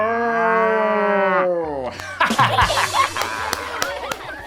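A person's voice imitates a cow with a long, drawn-out moo as part of a knock-knock joke, followed by bursts of laughter and chuckling.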